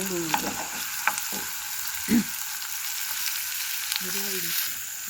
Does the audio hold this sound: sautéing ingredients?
yes